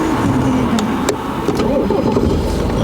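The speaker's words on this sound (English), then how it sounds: "Start your car, Erin." A learner driver's car engine during a driving lesson, heard from inside: a close, steady low hum with faint rattles and no pauses.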